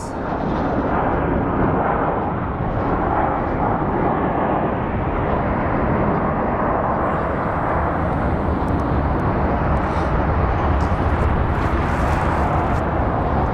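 Southwest Airlines jet at Phoenix Sky Harbor airport producing a loud, continuous broadband engine roar that holds steady throughout, with no talk.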